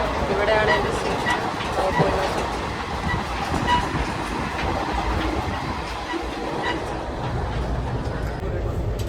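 Inside a crowded passenger train bound for Kozhikode, a steady rumble and rattle of the carriage runs throughout with faint rhythmic wheel clatter, while people talk in the background.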